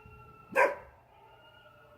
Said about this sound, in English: It's this little chorus of tiny dogs.